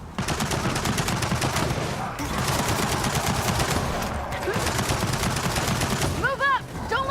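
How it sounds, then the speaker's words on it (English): A turret fires sustained rapid automatic bursts in Gears of War 4, a loud steady rattle with two brief breaks, while voices shout over the combat near the end. "Don't let that turret pin us down!"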